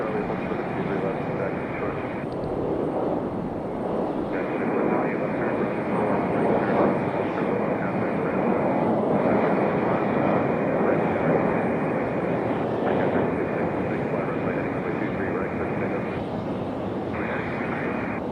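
A jet airliner roars down the runway at Raleigh-Durham International on departure for a short flight to DC, a loud, steady, broad rumble holding for the whole stretch with voices over it.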